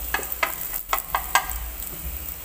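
Pork stir-fried in a pan with browned onions gives a steady close sizzle, broken by several short crackling bursts as the meat is tossed, with no talking.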